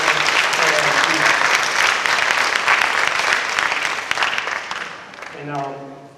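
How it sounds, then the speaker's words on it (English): A graduation audience claps in sustained, dense applause for several seconds. It then tapers off as a voice begins speaking. "So I want to give you guys a round of applause, and I want you to give yourselves a round of applause"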